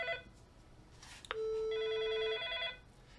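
Fanvil video intercom indoor station ringing: a short tone blip, then a steady electronic tone joined by a warbling multi-tone ring, fairly loud in a quiet room.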